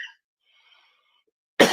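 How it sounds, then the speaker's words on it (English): A single loud cough bursts out near the end after a long stretch of near silence, close to the microphone. "I'll let you get the cough out of you."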